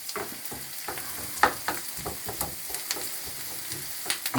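Steady sizzling of onions browning in a pan, with occasional sharper pops and crackles, close up and continuous.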